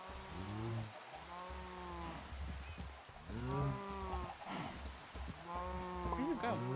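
Several long, drawn-out Minecraft cow moos follow one another over a steady patter of video game rain.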